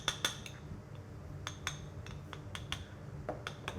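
A metal utensil clinks and scrapes against a bowl while softened butter is worked, giving a sparse run of light, close taps at irregular intervals over a quiet kitchen background.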